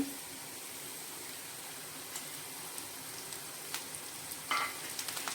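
Chickpea greens tossed into frying spice masala in a pan, a soft steady sizzle marked by scattered crackles and a burst of spattering near the end, close and quiet, with no talking.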